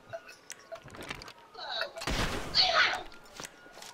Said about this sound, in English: use the musket to shoot